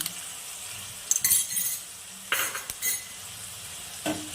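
Spice masala of tomato paste with ground cumin, turmeric and chilli powder frying in a pan for a vegetarian potato and pointed gourd curry, with a steady sizzle and several bursts of scraping as a spatula stirs it.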